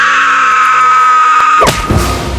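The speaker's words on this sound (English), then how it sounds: "They have a little screaming bird." A little screaming bird in the Avatar: The Last Airbender cartoon lets out a shrill, sustained squeal. The squeal is cut off after about a second and a half by a sudden burst of rough noise.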